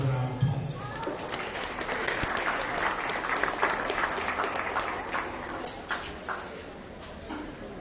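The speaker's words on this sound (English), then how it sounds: "Let's give them both a round of applause." A crowd in the show ring at a county fair beef show claps steadily for about seven seconds, a dense wash of applause that thins toward the end.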